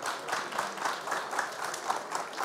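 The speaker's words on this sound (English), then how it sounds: "Please, warm round of applause for Catalin." A crowd claps steadily throughout, a full round of applause with even rhythm and no voices standing out.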